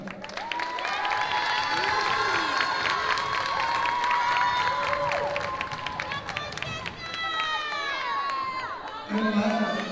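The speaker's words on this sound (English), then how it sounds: "Let's give a round of applause for Daniela." Crowd in a school gym at a girls basketball senior night cheering, whooping and clapping loudly throughout, with children shouting and some squeaky, sharp sounds mixed in.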